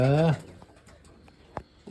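Pigeons coo from a loft, a loud rolling coo opening close by, followed by softer scattered rustles and a few small knocks and flutters.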